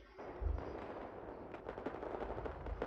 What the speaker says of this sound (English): Oh yes, this gun is so great. What is this? Oh, this M249.